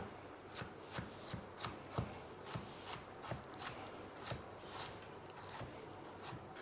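Rapid, evenly spaced knife chops on a board as carrots are diced, about a dozen crisp close strokes in a steady rhythm, fairly quiet.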